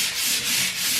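Loud, steady hand sanding across a drywall patch left after removing an electrical or phone panel, a continuous close abrasive hiss with gently rising and falling strokes.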